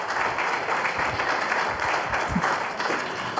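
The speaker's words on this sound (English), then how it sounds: "I certainly don't want to cut off your applause" Steady applause from a large audience, sustained and dense throughout without a break.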